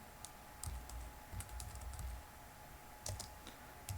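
Quiet typing on a computer keyboard while entering Linux encryption commands, irregular light key clicks with a few small clustered bursts, close and alone.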